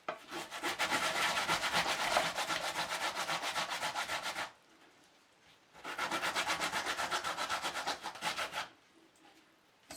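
Cassava is grated by hand, giving fast rhythmic rasping scrapes in two long bursts separated by short quiet pauses, close and clear with no talking.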